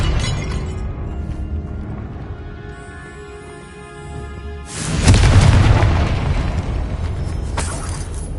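A Confringo fire spell blasts in the Hogwarts Legacy game, a sudden loud booming explosion with crackling, shattering debris that erupts partway through after a quieter stretch of ambient game music, then rumbles on.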